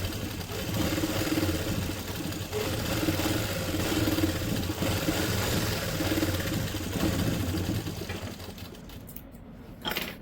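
A sewing machine runs steadily while press-stitching a co-ord set, a continuous mechanical whirring with a fast rhythmic needle chatter that holds for several seconds before easing off near the end, close and clear with no talk.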